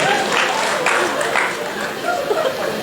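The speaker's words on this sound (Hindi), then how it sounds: "देखो इससे भी ताली बजा रहे।" An audience at a Hindi poetry event claps and laughs in a brief burst of applause, close and steady, with a voice speaking over it.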